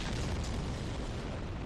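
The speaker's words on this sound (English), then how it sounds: "there are fire bombs, giant fire bombs being thrown at us" Giant fire bombs exploding in Dark Souls at Sen's Fortress, a steady, broad, rumbling roar of blasts at moderate-to-faint level throughout, no voices.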